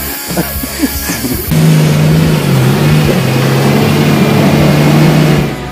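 Car engine labouring on a rough forest road, a few irregular knocks and thumps at first, then a loud sustained revving drone holding at high load for several seconds before easing off.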